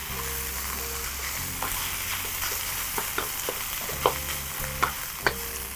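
Onions frying over high heat for a beef noodle stir fry, a soft continuous sizzle broken by several light spatula taps and scrapes, louder toward the end, with a low hum underneath.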